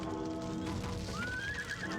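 A horse whinnies in a video game, a rising, wavering neigh with faint hoof clip-clop beneath, heard over steady game background sound at moderate volume.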